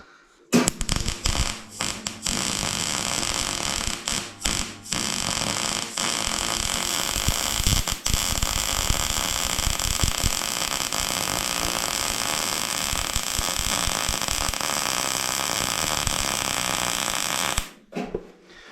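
Welding fills holes in a rusty steel bale fork, a steady, harsh crackling buzz that runs nearly unbroken for about seventeen seconds after a few short starts, then cuts off.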